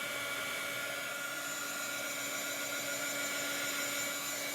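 A hair dryer drying a chalk transfer whirs with a continuous, even high-pitched blowing hum, close to the microphone and steady throughout with no talking.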